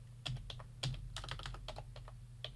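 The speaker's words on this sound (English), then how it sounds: "I typed it wrong." Typing on a computer keyboard while searching Hebrew words in Bible software: a rapid, uneven run of close, crisp key clicks with a few heavier taps, under a steady low hum.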